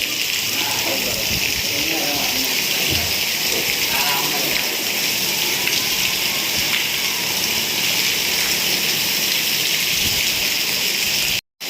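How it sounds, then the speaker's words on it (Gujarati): Heavy rain roars steadily throughout, dense and loud, with muffled voices briefly audible underneath before it cuts off abruptly at the end. "ફૂલ વરસાદનો માહોલ થઈ ગયો છે"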